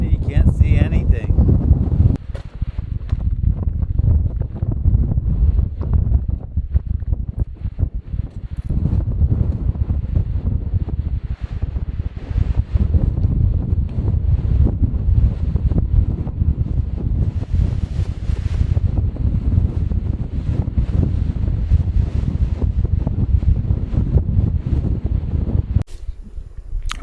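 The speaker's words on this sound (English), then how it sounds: "It's windy, can't see anything." Strong, continuous mountain wind roars and buffets the microphone, a heavy low rumble that barely lets up throughout.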